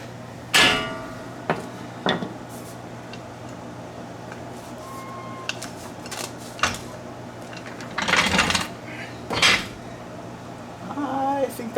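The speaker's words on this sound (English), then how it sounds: "Let's get an actual hammer, Jimmy." A handful of sharp metallic knocks at uneven intervals from a hammer striking metal while building a custom steering link on a solid-axle-swapped Ford F-150, over a low steady hum with quiet gaps between strikes.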